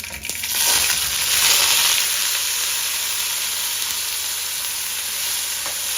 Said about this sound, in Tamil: இப்போ நான் அதோட வெங்காயம் சேர்க்கிறேன்